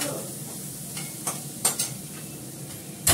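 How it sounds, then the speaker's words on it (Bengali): Food frying in a very hot kadai, a steady soft sizzle close by, broken by several sharp clinks of a utensil stirring against the pan, with no talking. "ভালো করে লাল করে ভেজে নেব।"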